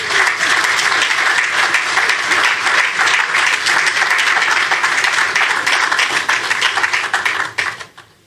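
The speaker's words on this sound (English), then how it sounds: "please give them a round of applause" A crowd at an official launch event for micro, small and medium enterprise loan grants gives sustained, dense applause, loud and steady for about seven seconds before quickly dying away.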